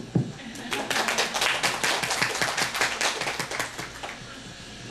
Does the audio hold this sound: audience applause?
yes